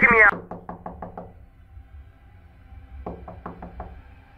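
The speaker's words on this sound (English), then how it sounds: "Is that a knock at my door?" A door knocks twice in Fears to Fathom: Ironbark Lookout, each time with a quick burst of about five sharp raps, loud and close. A short spoken sound comes just before the first burst.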